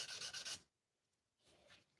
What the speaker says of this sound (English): Sanding down a mallet we built today